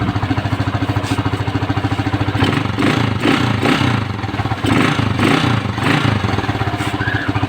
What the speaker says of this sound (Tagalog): So ngayon, revolusyonan natin.